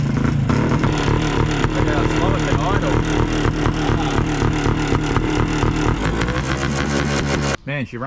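A high-compression engine for a fat trike runs loud and steady close by, a dense continuous roar with uneven throttle changes that cuts off near the end.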